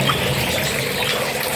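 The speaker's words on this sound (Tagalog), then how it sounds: "Doon lumalabas yung malinis tubig na." Filtered water pouring from a 2-inch pipe in a DIY aquaponics system, a continuous near trickle and splash heard alone.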